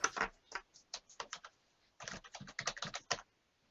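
Keys clatter on a computer keyboard during an online tabletop role-playing character creation session, quiet and close, in two brisk bursts of uneven tapping separated by a short pause.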